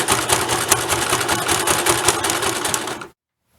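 Sewing machine stitching elastic into a fabric face mask, a fast steady mechanical rattle of needle strokes, close and continuous, stopping abruptly near the end.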